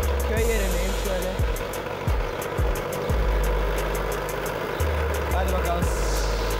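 A low-slung drift Mobylette moped runs on a rural mountain test ride, its small engine buzzing with repeated throttle blips and drops, while someone talks over it.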